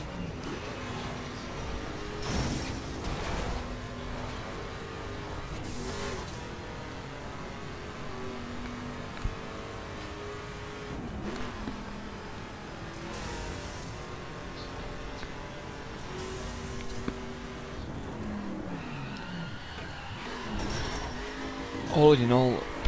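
A 2015 Ford Mustang GT Fastback in The Crew turns and brakes, its steady engine drone dipping and rising with brief tire squeal near the end, a voice talking over much of the run.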